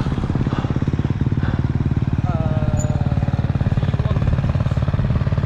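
A motorcycle engine runs steadily close by, its dense rhythmic firing pulses carrying through the whole stretch, with a brief faint voice layered over it.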